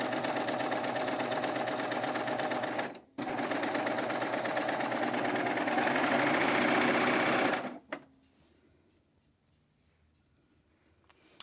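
A serger stitches the shoulder seams of a dress with its blade lowered, giving a loud, steady mechanical whirr. It breaks briefly, runs again for several seconds, then stops, leaving quiet room noise.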